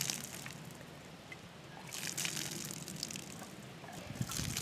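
Water trickling and draining steadily from a split cap, a soft continuous wash of liquid with slight sloshing swells, close and fairly quiet throughout.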